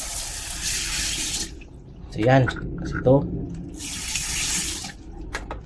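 A tap sprays water onto a toilet tank part, the pin that pushes the valve, to rinse off dirt. Two strong, close bursts of running water are broken by a quieter gap where someone talks.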